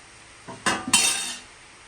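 Spoon scraping and clinking inside a pot while mixing a large 4 kg batch of carrot halwa, a few short metallic clinks and a brief stirring scrape, close and alone.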